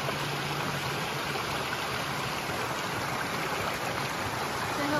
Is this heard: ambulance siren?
no